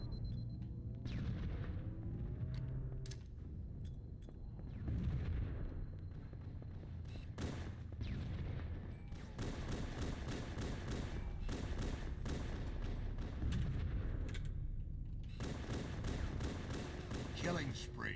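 Grenade blasts in the video game Halo, heavy booms and thuds going off repeatedly over a bed of game noise, with someone talking throughout.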